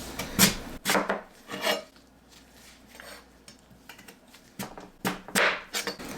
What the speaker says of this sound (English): I'm going to cut these potatoes about 1 inch thick